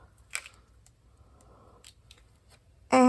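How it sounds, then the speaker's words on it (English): Die-cut paper speech bubble for a handmade card, cut with scissors: a soft snip early on, faint paper rustles, then a loud close crunch of cutting at the end. "I can then cut out my speech bubble"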